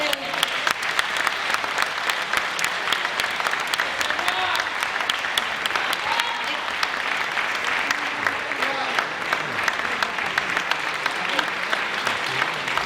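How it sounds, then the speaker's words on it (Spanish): A theatre audience at a music festival in the Teatro Principal da Estrada claps steadily and warmly for a long stretch, with scattered voices and a few cheers under the applause. "Un aplauso, por favor"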